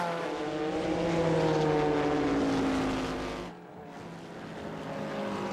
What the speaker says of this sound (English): Jan Magnussen storms past them and past the Dutch-entered Spiker with its BMW engine.